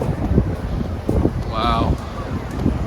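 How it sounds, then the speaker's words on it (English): Strong wind gusts buffet the microphone high up on a slide tower at Disney's Blizzard Beach water park, a steady rushing roar with a brief whistling tone partway through. "It's so windy up here though."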